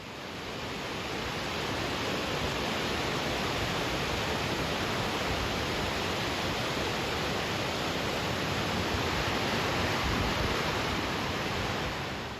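A cold spring river at a bend in the New England countryside flows with a dense, steady broadband rush like white noise, loud and unbroken throughout with no voices.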